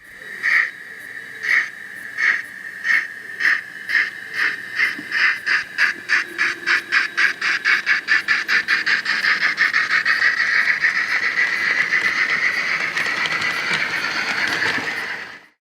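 Sonic Models Robinson A5 OO gauge model steam locomotive sound feature: rhythmic chuffing exhaust beats start slow and spaced, then quicken steadily until they blur into a continuous hissing roar, loud and close with no talk.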